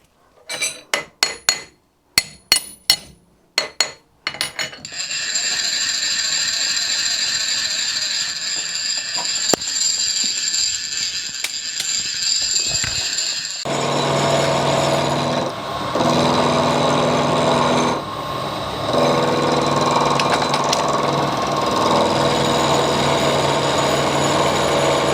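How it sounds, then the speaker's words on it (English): A milling machine squares the ends of a steel piece held in a vise. A few sharp metallic clinks come first, then a continuous grinding cut starts and steps up louder partway through. "all I want to do is square the ends up on it"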